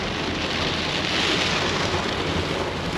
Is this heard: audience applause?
no